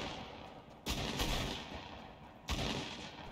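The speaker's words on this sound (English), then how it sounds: "Somebody shooting that's really close to me." Nearby gunfire in the video game Fortnite: two loud, sharp bursts of shots, the first lasting over a second and the second short, separated by a quieter noisy background.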